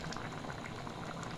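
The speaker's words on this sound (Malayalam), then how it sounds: "കുരുമുളക് പൊടി ഇട്ടിട്ട് നന്നായിട്ട് തിളച്ച് വന്നിട്ടുണ്ട്" Broth seasoned with crushed black pepper bubbles at a steady boil in a pot, a soft, continuous gurgling heard on its own.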